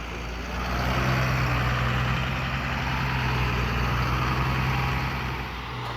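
A farm tractor idles steadily during silage baling, a low, even diesel rumble that holds at moderate level for several seconds with no voices.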